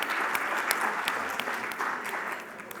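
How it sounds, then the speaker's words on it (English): Audience at a healthcare conference in the Cayman Islands gives a round of applause, dense steady clapping from many hands that fades slightly toward the end, with no voices over it. "Round of applause."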